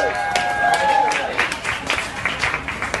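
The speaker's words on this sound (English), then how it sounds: "get a round of applause" A studio audience claps through a live cooking demonstration with a top chef, a dense patter of hands filling the space, with voices and a faint tonal hum mixed in near the start.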